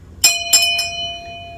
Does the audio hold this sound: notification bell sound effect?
yes